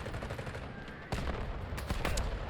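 Gunfire in the shooter game Delta Force, with a K416 rifle build, rapid bursts of shots cracking close and loud, stacked in quick repeating volleys.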